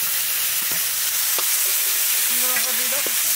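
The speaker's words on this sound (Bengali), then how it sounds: "এবার আমরা দিয়ে দেবো আদা রসুন বাটা" Ginger-garlic paste added to hot oil in a frying pan gives a steady broadband sizzle with a few stirring scrapes, close and continuous throughout.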